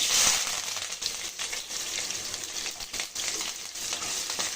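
Mustard seeds, chopped onion, green chillies, curry leaves and dried red chillies fry in hot oil in a pan, giving a steady, close crackling sizzle that runs unbroken throughout with no voices.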